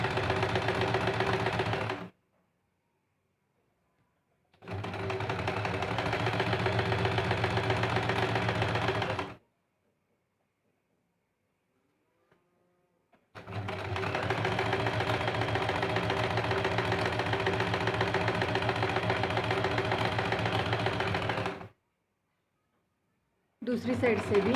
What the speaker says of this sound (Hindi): फिर ब्लाउज को पलटी करके अंदर की साइड से इस प्रकार से एक सिलाई करते हैं।